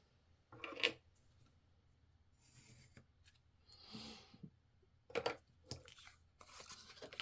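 Paper file folder being cut by hand, giving two sharp, brief tearing-snips about four seconds apart with faint rustling and handling noise between them, close and fairly quiet, with no talking.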